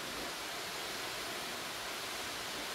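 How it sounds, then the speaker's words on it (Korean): Sambuyeon waterfall in Cheorwon pours down in a steady, loud, unbroken roar of falling water, close by and alone, with no voices. "시원하게 쏟아지는 폭포수의 소리는 웅장함을 더해줍니다"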